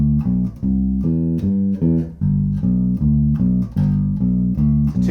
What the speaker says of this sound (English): what we want to do is apply this one bar riff to the whole of the blues sequence